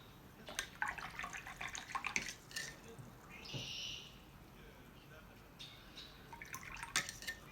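Paintbrush rinsed in a water jar between watercolor swatches of Daniel Smith paints, giving soft, scattered splashes and clinks of the brush against glass, quiet and close, with a brief brighter tinkle midway.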